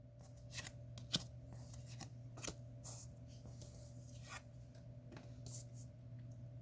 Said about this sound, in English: Now we're going to deal ourselves 3 cards.